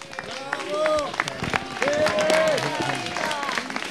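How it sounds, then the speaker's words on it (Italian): Outdoor gathering of local Alpini at a torchlight procession in Rezzago applauding a speaker, scattered clapping mixed with crowd murmur and voices talking over it, moderately loud and uneven. "Io vi ringrazio di questo applauso"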